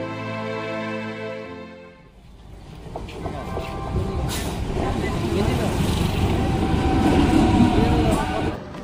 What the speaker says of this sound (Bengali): আর আমাদের ট্রেন এই কাটোয়া জংশন থেকে ছেড়ে দিল বর্ধমান যাওয়ার উদ্দেশ্যে।